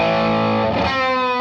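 Electric guitar played through a tube amp with a Pugilist distortion pedal switched on, giving a loud, dense, sustained overdriven chord that rings steadily with no one speaking.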